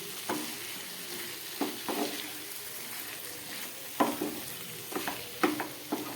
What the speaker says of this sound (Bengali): খুব ভালো করে এটাকে আবার খানিকক্ষণ আমি কষিয়ে নেব।